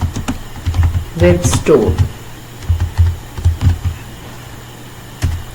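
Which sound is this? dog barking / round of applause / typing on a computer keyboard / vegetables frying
typing on a computer keyboard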